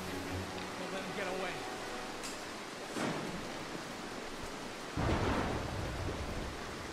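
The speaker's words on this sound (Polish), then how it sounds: "Ta burza jest zdradliwa." Steady rain hiss with rumbling thunder rolls swelling twice, the second louder and closer, from the video game Mark of the Ninja; faint voices murmur underneath.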